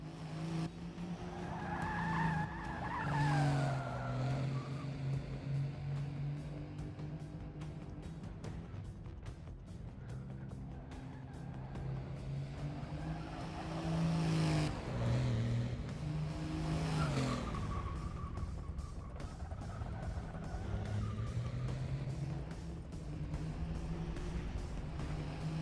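A car races in the video game Forza 6, its engine revving up and down over long stretches while tyres repeatedly squeal and skid through corners, producing a continuous, fairly loud mix of motor drone and tyre screech.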